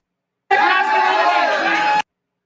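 A bar crowd cheers and shouts together for a debate topic in one loud, sustained burst of massed voices lasting about a second and a half, starting and stopping abruptly.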